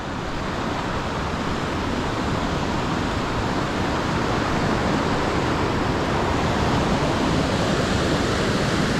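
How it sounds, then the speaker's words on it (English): Continuous rushing water pours and splashes nearby at small waterfalls in Whitehorse wildland, a dense, steady roar of small falls with no voices. "look at these little waterfalls here"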